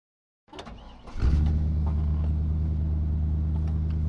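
A 1961 Chevrolet Parkwood station wagon starting up and settling into a steady low engine rumble from inside the car, loud and continuous after a brief cranking.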